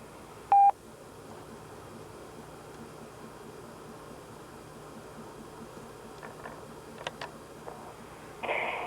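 An answering machine gives a single short high beep right after its greeting, followed by quiet line hiss and a few faint clicks and tones near the end.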